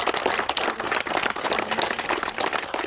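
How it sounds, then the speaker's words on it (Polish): An outdoor audience at a junior fishing competition applauds steadily, a dense, continuous patter of many hands clapping at moderate volume with no talking over it. "wielkie brawa dla niego"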